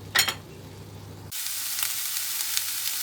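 Ground beef fries in olive oil in a pan, a steady close sizzle that begins abruptly after a brief knock and carries on with soft stirring scrapes.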